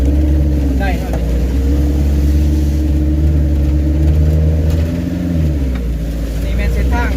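Car engine running steadily and loud on a muddy dirt road, droning at low pitch and revving in places, with people talking over it.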